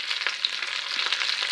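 Capsicum sautéing with softened onions in a pan gives a steady, moderately loud sizzle with faint stirring scrapes and no voices.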